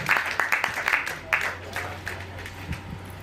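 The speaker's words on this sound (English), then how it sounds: "Please give me a round of applause." Brief applause from an audience at a Nigerian police bomb-disposal demonstration, a few bursts of clapping that thin out into the background noise of the setting while the space stays busy.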